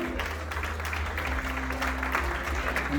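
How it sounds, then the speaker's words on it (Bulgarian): An audience at a formal event applauds as a director is introduced, a continuous hiss of clapping over a low steady hum, moderately distant and brief. "Моля за вашите аплодисменти."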